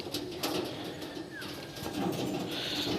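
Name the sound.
pigeons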